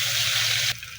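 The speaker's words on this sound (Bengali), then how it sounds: "পেঁয়াজগুলোকে এখন ভেজে নেব।" Half a cup of chopped onions frying in hot oil with spices for a fish-head and mung dal murighonto: a steady, close, loud sizzle that drops suddenly to a quieter hiss near the end.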